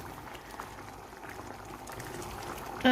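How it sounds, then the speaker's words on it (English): Tomatoes simmer in a chicken karahi, the excess liquid bubbling and reducing in a steady, soft, continuous sizzle close by, with no talk. "Just so that we can evaporate that excess liquid, and just continue to cook this."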